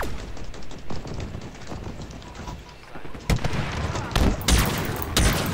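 Shotgun and other gunfire in a Halo Infinite multiplayer match: repeated sharp blasts and bursts, loud and close, especially in the second half, with game effects and some talk underneath.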